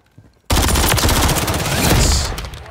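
Dense, loud gunfire blasts without pause in a first-person shooter video game round, a sustained burst of rapid shots lasting about two seconds and then tapering off, with no talk over it.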